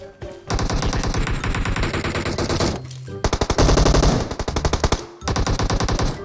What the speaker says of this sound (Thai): ถูกปืนลั่นหนักเลย